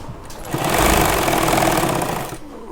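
Sewing machine stitching a pocket onto pajamas, a close buzzing whir that rises to a steady run for about two seconds, then eases off.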